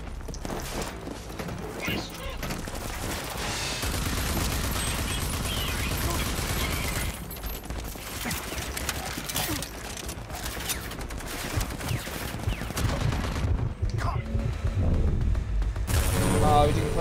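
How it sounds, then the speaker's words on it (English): Ranger assault rifle gunfire in the video game Rage 2 crackles in dense volleys amid booms and game noise, loud and continuous, with talk mixed in. "Ranger assault rifle. Shoot his legs out."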